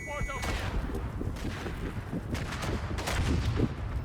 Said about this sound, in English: Yeah, that's artillery.